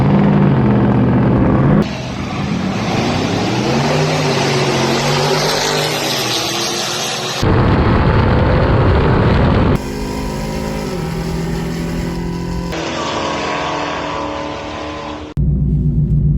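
Supercharged Chevrolet Camaro ZL1 at a drag strip, roaring loud and close as the revs climb through several gears, with abrupt shifts in tone along the run.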